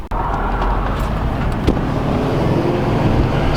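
A 2013 Subaru STI running a Cobb stage 1 tune drives along, its engine a steady loud rumble with road and wind noise from inside the car, no talking.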